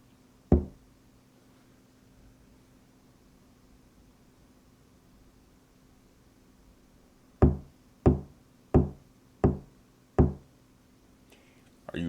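Knocking or nailing rings out as one sharp hit followed after a long quiet gap by a steady run of five evenly spaced loud knocks, close and solid, each with a short ringing tail.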